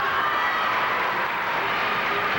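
A gymnastics crowd in a gym at a 1983 national championship, a steady distant murmur and wash of reaction from spectators, with no clear individual voices.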